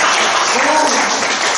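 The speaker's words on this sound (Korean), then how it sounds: "박수 좀 드릴까요?" An audience at a Sunday Buddhist dharma talk breaks into brief applause, a thick, steady burst of many hands clapping at close range that carries on without pause.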